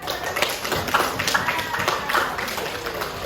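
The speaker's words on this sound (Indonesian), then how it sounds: "tepuk tangan" Students in a classroom clap their hands together, a dense, even patter of claps that runs throughout at moderate volume.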